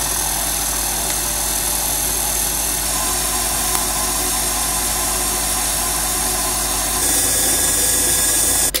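An electric mixer whirs steadily and loudly while blending gluten-free bread dough as flour is added bit by bit, its motor tone shifting and growing harsher toward the end.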